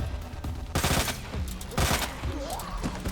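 Bursts of rapid automatic gunfire in Resident Evil 2, loud volleys with short gaps between them.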